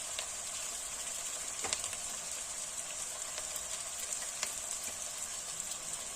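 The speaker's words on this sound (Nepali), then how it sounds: "एकछिन फ्राई गरेर हामीले अदुवा लसुनको पेस्ट राख्नुपर्छ।" Chicken feet fry with ginger garlic paste in a steady, dense sizzle with scattered crackling pops, continuous and close throughout, with no talk.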